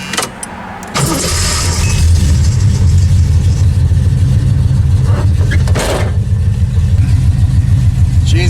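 A 1979 AMC AMX starts up and pulls away, its engine rumbling loud and close after a brief quieter moment, with a steady low drone that swells slightly as the car drives off.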